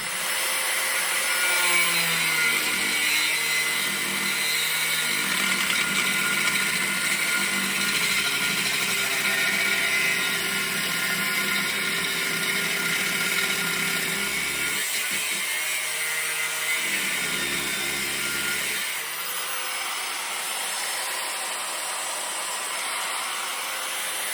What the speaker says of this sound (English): I hate cutting aluminium with a grinder